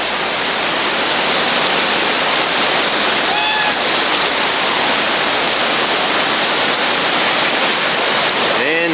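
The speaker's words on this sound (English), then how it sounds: "This is Fayette Station Rapid, our last major rapid today." Whitewater rushing through Fayette Station Rapid on a West Virginia river, a loud continuous roar of churning water, with brief faint voices or calls rising over it.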